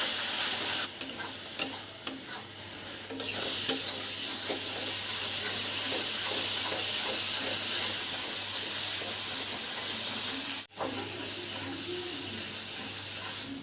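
Spice paste for a fish curry being stirred and sautéed in a pan, a steady close sizzle with repeated scraping strokes of the spoon, briefly interrupted near the end.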